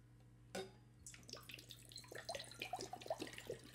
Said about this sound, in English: we always fill the pot with water